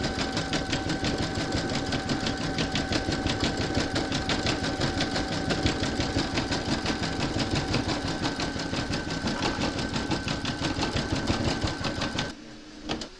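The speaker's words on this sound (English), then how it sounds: "So thread your machine up and then you're going to stitch round number 22." An embroidery machine stitches a round of a gingerbread house design in rapid, steady mechanical pulses, loud and close, running continuously before stopping near the end.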